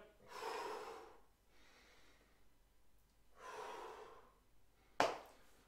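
A person breathing hard during a leg workout of squats, with slow audible inhales and exhales in a steady rhythm, close and fairly soft, ending with a sharp short burst of breath.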